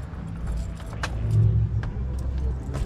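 Keys jangle briefly near a car, a few light metallic clinks over a steady low vehicle rumble; close, with no speech.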